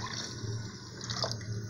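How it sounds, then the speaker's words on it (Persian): Water pours steadily into a cooking pot for a meatball soup, a close, continuous splashing stream with a faint hiss and no talk over it. "یک لیتر آب بندازیم"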